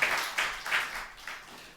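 Church congregation applauding members receiving awards, a short burst of soft, fairly distant clapping with a few uneven swells, no talking.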